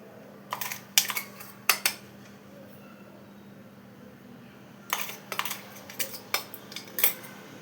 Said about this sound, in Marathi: आता आपण हे सारण एका भांड्यामध्ये काढून घेऊया, छोट्या पॉटमधलं.